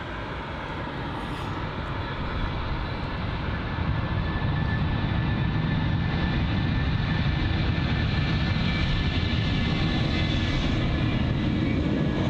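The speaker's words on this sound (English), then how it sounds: "There you are, the BA, I think that's the A320." A British Airways Airbus A320 roars at London Heathrow, its engine noise loud and unbroken, rising slightly and holding steady throughout.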